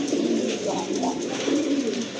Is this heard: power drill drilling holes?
no